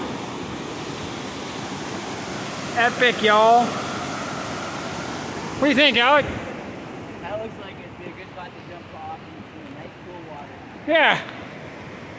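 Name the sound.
river flowing through gorge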